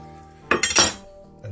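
A knife cuts a sourdough cheese, onion, tomato and pickle sandwich in half, making a short crunchy slice: two or three quick crackling strokes through crust in under a second, close and crisp, then quiet.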